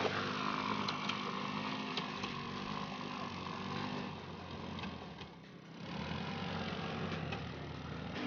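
A rear-drive 2x2 ATV motorbike climbs a slope off-road, its engine droning steadily at mid distance with slight rises and dips in pitch and no voices.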